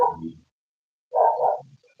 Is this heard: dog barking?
yes